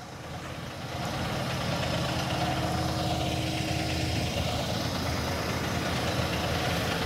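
A 2017 Volvo B8R Sunsundegui SB3 coach's 8-litre Euro 6 Volvo diesel idles steadily and close by, a constant low rumble that settles in after the first second and runs alone without talk.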